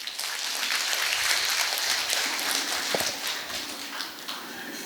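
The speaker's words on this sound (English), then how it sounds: "Clap for yourself." Staff at a school orientation session clapping for themselves, a brief burst of dense group applause, fairly close, with no talk over it.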